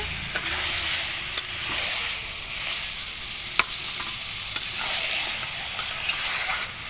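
Meat sizzles in a frying pan while a utensil stirs and scrapes it, a constant hiss with sharp clicks and scraping strokes at irregular intervals, close and fairly quiet.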